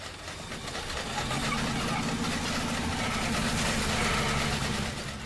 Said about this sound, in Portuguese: Você escutou? Parece um carro.